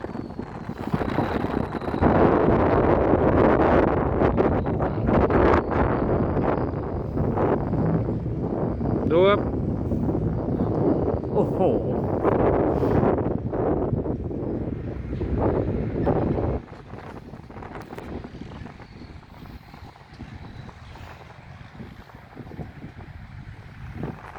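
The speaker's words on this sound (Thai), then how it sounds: "โอ้ต้องขออภัยเรื่องลมครับ ลมแรงมาก" Strong wind buffets the microphone outdoors beside a busy site where trucks come and go, a loud continuous rumble for about sixteen seconds, then easing to a lower steady roar.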